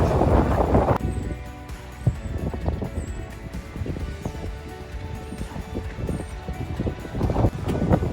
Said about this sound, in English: Definitely windy down here. Oh my goodness, and it's quite a cold wind.